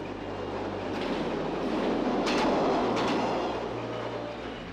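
A JNR-era 415 series commuter train on the Nippō Main Line in Kyushu, Japan, rumbles steadily along the tracks, a continuous loud roar of wheels and carriage noise with faint rhythmic clatter, no voices.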